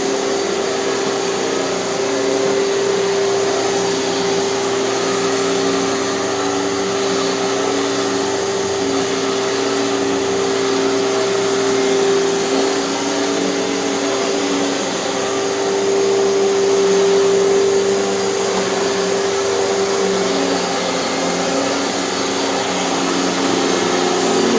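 A Hoover TurboPower 5K canister vacuum cleaner runs steadily on carpet, a loud continuous motor whine with a high tonal hum and airflow hiss that stays constant throughout.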